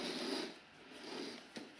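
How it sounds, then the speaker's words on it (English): Large gift box being opened, a close, continuous scraping and rustling of cardboard and packing with one short sharp snap near the end, fairly quiet and with no talk. "So now I'm going to open this huge box."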